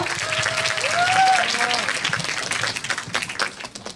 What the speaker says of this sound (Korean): 박수로 맞이해주세요.